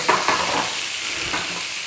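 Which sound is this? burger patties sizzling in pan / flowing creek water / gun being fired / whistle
burger patties sizzling in pan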